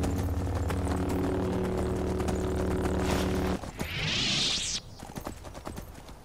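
Rhythmic hoofbeats of a horse in a Skyrim mod game clop along under a steady engine-like drone, then a whooshing effect sweeps through and the galloping continues more faintly.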